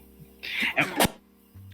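A single sharp sneeze bursts out, a quick breathy intake followed by an explosive burst, close and fairly loud against a quiet background.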